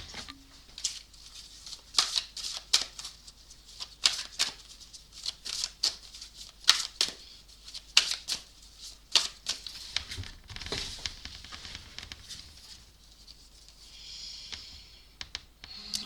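Tarot or oracle cards shuffled during an intuitive card reading, a quick run of crisp papery riffles and taps over about sixteen seconds, close and fairly quiet, with no voice.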